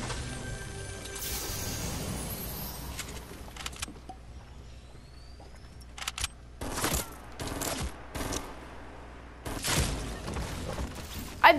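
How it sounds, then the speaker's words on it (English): Burst-fire shots in a video game, several short sharp volleys spaced a second or two apart over a steady engine-like rumble, with a final crack near the end. "That three shots. Burst. Really good gun."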